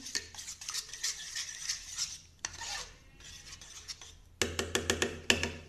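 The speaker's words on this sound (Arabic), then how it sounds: "غنبقاو نحركوها هكذا" A cheesecake mixture is stirred in a pot on the stove, with close rasping scrapes of a utensil against the pot, continuous at first and then a quicker rhythmic run of sharper strokes.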